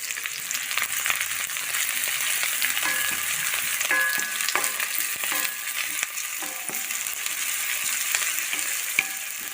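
Shallots and curry leaves sizzle steadily in hot coconut oil, a continuous close crackle broken by a few stirring scrapes, with no voices.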